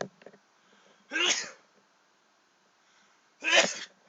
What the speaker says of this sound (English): every time I make a video I sneeze